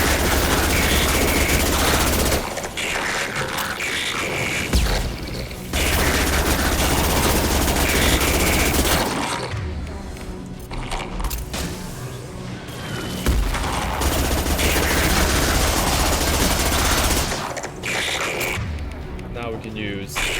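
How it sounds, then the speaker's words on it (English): Rapid SMG fire in Mass Effect 2, with loud sustained bursts of automatic shots broken by short pauses and game effects, repeating across the whole stretch. "Whittle him down with Overload and the SMG."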